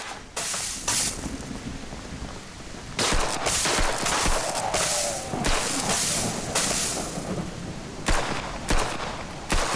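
Gunfire in the survival horror game Outbreak Island, bursts of rapid shots in loud clusters separated by short pauses, with hissing game noise underneath.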